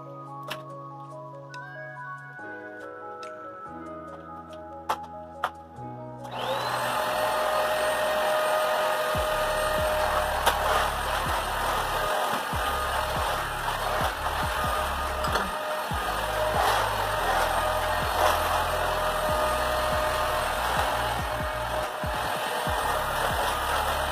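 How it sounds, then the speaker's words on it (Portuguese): A vacuum cleaner runs continuously and loudly while vacuuming a kitchen floor at home, switched on partway through after a quiet stretch of background music, with a steady roaring whine for the rest. "Agora pra ver vocês pra cá, eu vou aspirar aqui desse lado."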